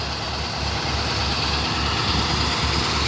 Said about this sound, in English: there's a fire truck and the ambulance.